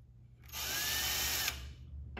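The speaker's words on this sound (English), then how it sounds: "what we recommend is putting a small drill puncture hole just in the back of each one to help get that screw started" A power drill whirs steadily for about a second while boring a small pilot hole into the laminate backing of a Y-leg flip-top nesting table, close and loud, then stops.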